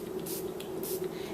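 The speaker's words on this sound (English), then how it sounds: "So I'm just going to hold this flat and spray lightly." Short, light spray-bottle pumps mist through a stencil onto an art journal page, a few soft hissing puffs over a faint steady hum.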